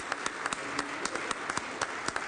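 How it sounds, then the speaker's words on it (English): Applause in a state Senate chamber during a floor session, moderate clapping from the members with distinct claps scattered over a steady wash, somewhat distant and soft. "A round of applause once again for David Valverde."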